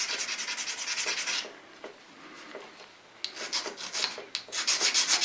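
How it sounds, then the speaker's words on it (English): A small sharpening stone rubs back and forth across a metal part from a Bridgeport rotary table to clean off burrs. The strokes are close and rhythmic, with a quieter pause in the middle before they resume. "take a little stone here and just clean this off"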